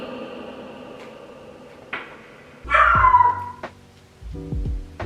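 A dog nearby gives a couple of loud, sharp barks with yelping, whiny tones between them, over a low background hum.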